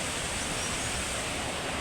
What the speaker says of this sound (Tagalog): Yan yung waterfalls.